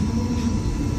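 A tower crane's trolley runs out along the jib toward a concrete truck during a pour, giving a steady, continuous low mechanical hum and rumble with no breaks for the whole second.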